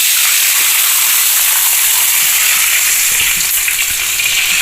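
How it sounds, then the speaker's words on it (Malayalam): Rice water poured into a hot drumstick-leaf tempering sets off a loud, steady hiss, a dense sizzle that holds without a break and stays close, with no voices. "കഞ്ഞിവെള്ളം ഒഴിച്ചു കൊടുക്കാം"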